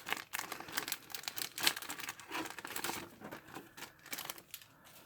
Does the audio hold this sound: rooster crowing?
no